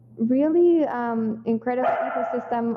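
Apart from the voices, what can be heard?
dog barking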